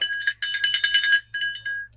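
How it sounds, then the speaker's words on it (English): Small hand bell rung in quick bursts, a bright metallic jingle of rapid repeated strikes, a short pause, then a final shake that fades out, close and loud indoors. "Let me find my bell."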